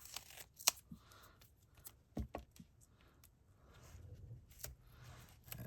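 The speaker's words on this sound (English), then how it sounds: "Cut this piece in half." Scissors snip through a strip of foam tape at a card-making desk, a few quiet, scattered clicks and cuts with soft handling noises in between.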